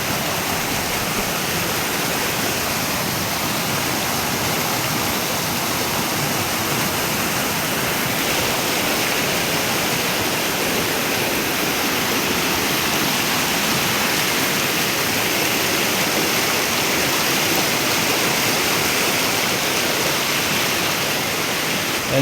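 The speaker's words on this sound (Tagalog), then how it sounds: "Yan, flowing water po siya." Water flowing steadily in a stream at Bato Singit, Occidental Mindoro, a loud continuous rushing wash with no break, heard close and alone throughout.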